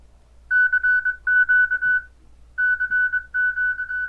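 Morse code CW tones generated by FLDIGI software from typed keyboard text on an amateur radio sound card setup: a clean, loud single-pitch beep keyed in rapid dots and dashes, grouped into two bursts with a short gap.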